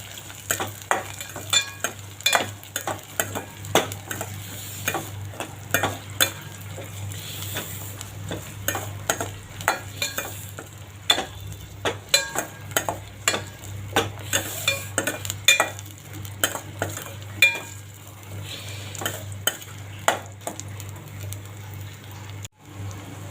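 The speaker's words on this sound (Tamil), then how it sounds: "வெங்காயம், வெங்காயம் நல்லா வதங்கணும்." Onions sautéing in a pan for a Chennai-style onion kolambu, a steady close sizzle broken by frequent scraping stirs of a spoon against the pan, continuing throughout with no talking.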